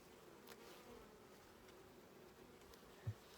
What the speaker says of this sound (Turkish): Arılar sakin arkadaşlar.